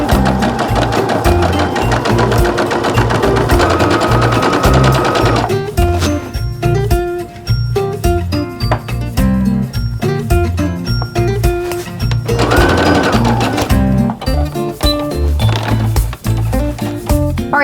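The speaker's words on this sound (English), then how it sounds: "I'm just going to keep repeating that process until I've stitched all the way to the end" A sewing machine stitches a patchwork pillow front in long steady runs, loud and close, with brief pauses between bursts and no voices.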